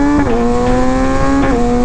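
A motorcycle engine with steady harmonic tone, the pitch dipping briefly twice as it shifts gears, loud and close throughout.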